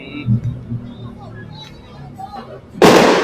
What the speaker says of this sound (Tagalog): kita natin yung fireworks sa BGC